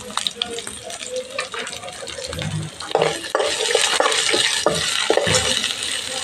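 Onions fry in a pan for avarekalu (field bean) upma, with repeated scraping and stirring strokes over a steady sizzle, close by and growing denser, with a voice faintly in the background.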